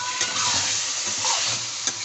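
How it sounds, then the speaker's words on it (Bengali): Fried pointed gourd (potol) sautéed in spice masala: a continuous close sizzle with a few soft stirring knocks in the pan. "এখন আমি এর মধ্যে দিয়ে দিচ্ছি ভেজে রাখা পটলগুলো আমি মশলার সঙ্গে একটু কষিয়ে নেব।"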